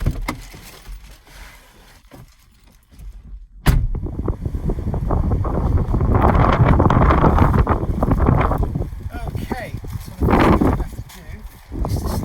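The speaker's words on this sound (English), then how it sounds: "A little bit windy" Wind buffets a microphone outdoors while elderflowers are being gathered, giving a loud, broadband roar that surges after a quieter opening. A voice speaks faintly under the gusts.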